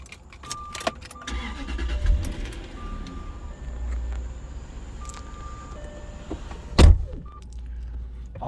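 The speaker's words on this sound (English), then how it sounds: "Just start the car up." A Jaguar XK8/XKR being started, with chimes and clicks, a brief whir, then a sharp cranking burst as the engine catches and settles into a low steady idle, heard close up inside the car.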